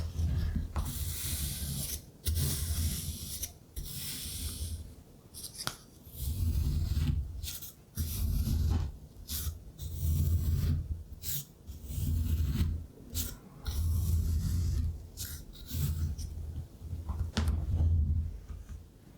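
Seashells handled up close in a quiet ASMR setting, giving a run of dry rasping, rubbing and clinking bursts in uneven clusters separated by short pauses, with no speech.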